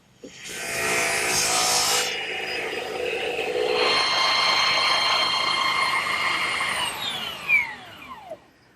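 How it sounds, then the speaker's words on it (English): A wood rasp files chair parts for a ladder-back chair, trimming each piece to fit a mortise. The scraping is close and steady, a continuous rough rasping that runs for several seconds before tapering off. "taking a rasp and fine-tuning each piece until it fits snugly in the mortise"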